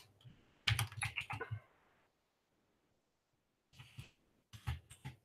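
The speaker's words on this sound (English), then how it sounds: "I have a mechanical keyboard, so it's going to be a little bit loud" Typing on a mechanical keyboard comes in two bursts of quick, loud, close clacking keystrokes separated by a pause of near silence.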